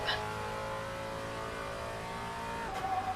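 A time-attack race car at full throttle on the Detroit Belle Isle street circuit, its engine a loud, steady, continuous drone close by, with a brief rise near the end.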